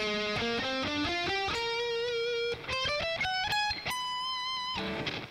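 Electric guitar through distortion effects plays a fast run of rising and falling notes, a few bent or sustained, ending on a held tone; moderately quiet, with no talking.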